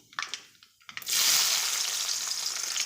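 Onion drops into hot oil already seasoned with mustard seeds and cumin, bursting into a loud, sustained close sizzle after a second of quiet stirring clicks.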